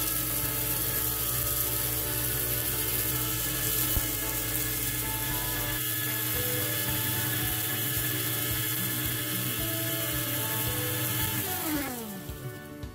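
An electric spice grinder whirs loudly and steadily, pulverising whole spices for a Nellore-style fish curry into fine powder, the motor then winding down and stopping near the end.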